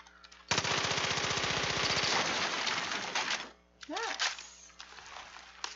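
Rapid automatic gunfire in the game Far Cry 5 crackles loudly in a dense sustained burst for about three seconds, then fades into game sounds while a player talks.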